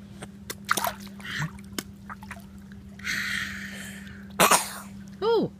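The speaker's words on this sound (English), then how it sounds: "Oh, nasty cough." Several short coughs and throat-clearing sounds come in separate bursts, close by, with brief gaps and some faint voices between them.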